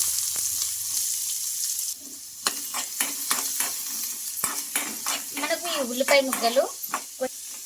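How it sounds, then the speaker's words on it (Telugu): Finely chopped onions and tempering spices frying in oil in a kadai, a hissing sizzle broken by frequent clinks and scrapes of a stirring spoon, with brief muffled voice sounds in the latter half. "మనకు ఈ ఉల్లిపాయ ముక్కలు కొంచెం గోల్డెన్ కలర్ వచ్చే వరకు ఫ్రై చేసుకుందాం"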